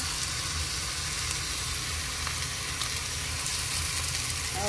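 Meatballs and bacon sizzle steadily in a frying pan, a continuous close crackling hiss with no speech over it.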